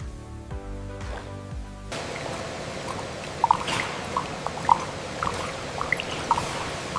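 Water rushes and splashes steadily as a stall in a cattle horn and leather facility is rinsed, with scattered drips and splats. A short tonal passage comes before the water.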